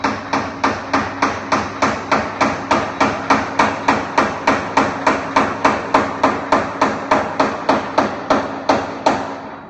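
Steady hammer blows tap a socket against an auger bushing to seat it flush in the back of a Rec Tec wood pellet grill, roughly three sharp metallic strikes per second, evenly spaced and close.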